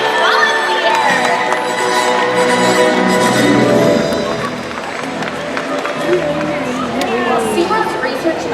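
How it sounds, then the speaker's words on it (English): Large outdoor stadium audience at the SeaWorld Orlando orca show cheering and clapping loudly, a dense roar with children's shouts and whoops, steady throughout with voices mixed in. "how about a round of applause for Trua, Makaio, and our audience volunteers?"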